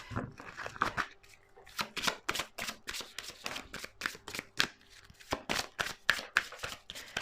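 Tarot cards being shuffled, a quick run of crisp riffling bursts and soft slaps repeating steadily and close by, with no talking.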